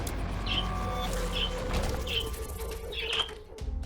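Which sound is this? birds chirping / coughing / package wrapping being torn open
birds chirping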